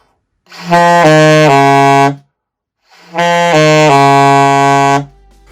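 Two sustained low saxophone notes, full and steady with a rich, warm tone, each held for over a second, played alone.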